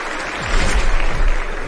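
Audience applause at a Bitcoin conference in Amsterdam, a short burst of broad clapping that swells and holds steady across the hall.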